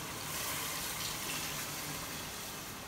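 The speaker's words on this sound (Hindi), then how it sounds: "अभी मैं इसके अंदर पानी ऐड करूँगी" Water pours into a pot of browned beef for nihari in a home kitchen, a soft steady gushing that stays faint and continuous throughout.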